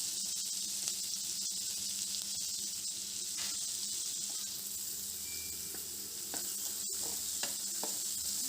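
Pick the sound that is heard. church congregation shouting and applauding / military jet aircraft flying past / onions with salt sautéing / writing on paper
onions with salt sautéing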